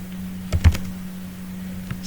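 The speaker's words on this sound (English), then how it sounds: "Now here I am typing" A few keystrokes on a computer keyboard, soft clicks bunched together near the start and one more later, under a steady low electrical hum in a quiet room.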